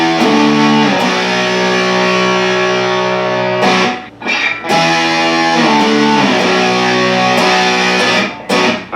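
Electric guitar played through an EarthQuaker Devices Sea Machine chorus pedal: loud, sustained, shimmering chords ring for several seconds, with two brief gaps where the strings are re-struck.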